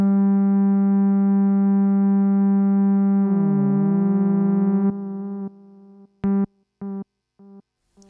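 A synthesizer holds a bright harmonic tone through a guitar modulation pedal, the pitch wobbling and sweeping before the sustained note cuts to a few short staccato notes with gaps of silence.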